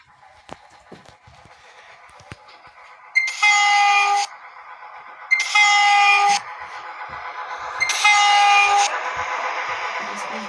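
A train passes with a rolling rumble beneath three long, loud horn blasts of about a second each, evenly spaced, with the rumble staying loud between and after them. No one speaks.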